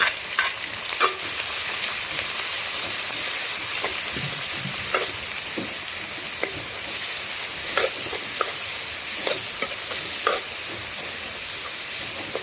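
Onions sizzle loudly in hot oil, a constant crackling fry broken by regular scrapes and clicks of a spoon stirring the pan while making chickpea sundal.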